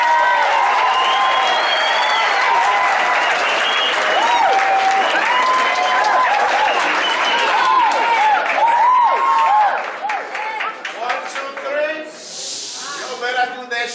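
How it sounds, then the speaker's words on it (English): A school audience claps to welcome a speaker at a motivational session, dense sustained applause with whoops and excited voices, fading into scattered claps and chatter near the end. "let's all clap hands for Dr. Richie."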